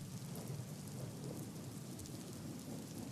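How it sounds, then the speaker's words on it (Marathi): Heavy monsoon rain in Bhandup, Mumbai pours steadily in a dense hiss, with a low rumble of thunder underneath, fairly faint and distant overall. "काल रात्रभर सातत्याने पाऊस कोसळतोय"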